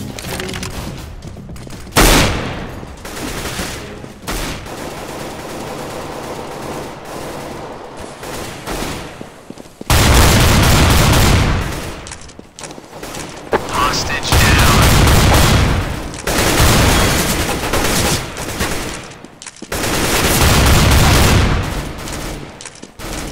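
Heavy cannon gunfire in Counter-Strike: Global Offensive, dense bursts of loud gunshots and booms roaring almost continuously with short lulls between volleys, in a busy match.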